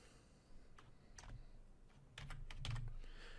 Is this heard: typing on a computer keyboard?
yes